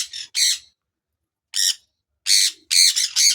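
Budgerigars in a colony squawk while eating sattu flour from a hand, sharp, harsh bursts coming loud and close in quick clusters with short silences between them.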